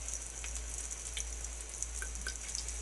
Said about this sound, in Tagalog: mainit na po yung ating mantika. Tambog po natin siya.